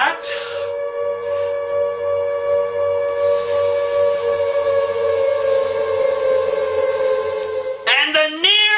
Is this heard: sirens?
yes